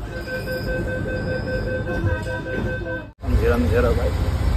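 Steady rumbling of a metro train running on rails, heard from inside, with a constant high whine and a brief dropout before the noise returns louder.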